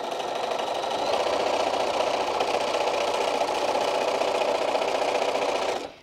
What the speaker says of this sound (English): I'm not really sitting behind the sewing machine